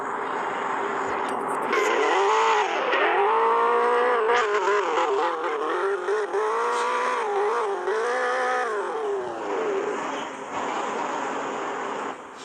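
A loud Tofaş car engine in a video game howls and shifts pitch in rising and falling waves, with brief tire squeals mixed in, fading slightly near the end.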